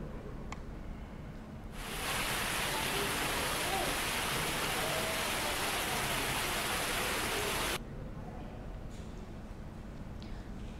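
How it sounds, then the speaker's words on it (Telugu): Heavy rain pours down in Hyderabad, a loud, steady wash of dense noise that starts abruptly, holds for about six seconds, then drops back to a quieter background hiss. "హైదరాబాద్ లో వానలు దంచి కొడుతున్నాయి."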